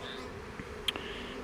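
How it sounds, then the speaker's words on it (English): Honeybees buzzing around a hive, a steady faint hum of many wings with one or two bees passing close by in brief, louder whirs. "There is plenty of bees in here"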